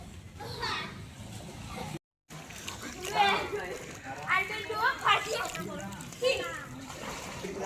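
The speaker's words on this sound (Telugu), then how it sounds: "వాళ్ళ చిన్న స్విమ్మింగ్ పూల్లో బాగా స్విమ్ చేస్తున్నారు" Children splash around in a small swimming pool, with water sloshing in bursts alongside bright kid voices and chatter throughout, broken by a brief silent gap.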